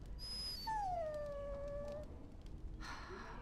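A dog in Dragon Age: Origins lets out a drawn-out, falling whimper that fades into a softer whine, heard alone over quiet game ambience.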